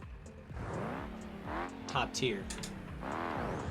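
Truck engine in the driving game BeamNG.drive, on a drift mod, revs up and down in rising and falling sweeps with a brief squeal of skidding tires, while someone talks over it.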